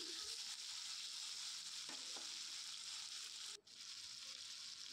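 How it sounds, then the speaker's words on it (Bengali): Cut potatoes fry in a pan with a steady dense sizzle while being stirred, with a few faint scrapes of the spoon under the constant frying noise; no talking. "এবার এটাকে 2 মিনিট নেড়ে চেড়ে নিচ্ছি।"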